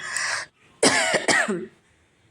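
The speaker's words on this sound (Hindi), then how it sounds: "सॉरी फॉर माई खांसी अगेन।" A few rough, hoarse coughs close up, a short one followed by a harsher pair after a brief pause, with quiet moments between them.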